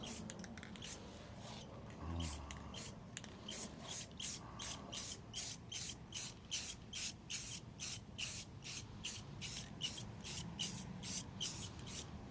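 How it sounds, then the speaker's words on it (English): A spray paint can hisses in short, evenly spaced bursts as Halloween fence boards are coated with back-and-forth passes, quiet and rhythmic. "There's no science to it, it's just spray paint."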